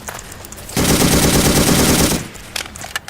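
A dense burst of rapid automatic gunfire in the video game Ace of Spades (modded) lasts about a second and a half, loud and close, followed by a few scattered clicks and shots.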